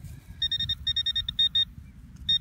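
A metal detector sweeping over ground gives rapid runs of high, clipped electronic beeps in stuttering bursts, with brief gaps between them, over a low rustle of handling.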